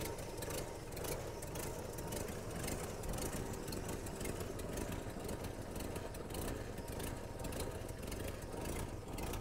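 A 1970 Dodge Dart engine idles with an uneven loping rhythm, a close steady mechanical chug running the whole time with no talk over it.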